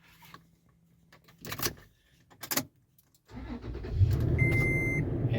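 Keys jangle and click into the ignition of a Toyota FJ Cruiser fitted with a flip key, then the engine cranks and catches into a steady close idle while a chime beeps.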